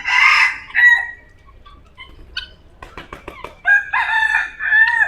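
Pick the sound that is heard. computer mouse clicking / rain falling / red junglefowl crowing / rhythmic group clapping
red junglefowl crowing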